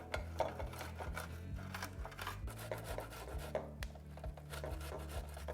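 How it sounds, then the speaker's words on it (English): Four fresh ears of corn grated against a grater to strip the kernels for creamed corn, a steady run of rapid scraping rubs with wet crunching, close and continuous with no talking. "grate my 4 ears of corn until there's no corn left on the cob"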